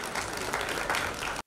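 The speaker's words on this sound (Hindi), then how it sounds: "प्लीज जोरदार तालियां उपासना जी के लिए।" Audience applause at an awards event in Mumbai, a brief burst of dense clapping from the crowd that cuts off abruptly at the end.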